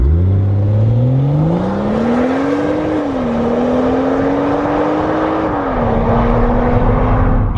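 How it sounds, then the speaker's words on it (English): A BMW F31 340i Touring estate drives on the road, its engine note rising steadily as it accelerates and then holding a smooth, loud drone with a brief dip, alongside constant road and wind noise. "Let's take this car out on the road"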